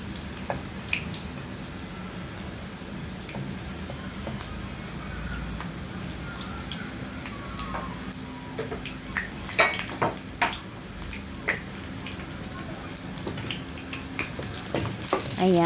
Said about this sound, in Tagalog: syempre haluin